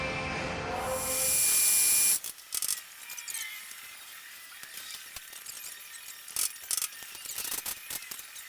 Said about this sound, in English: So now we can go ahead and get this drilled and tapped for the 3/8.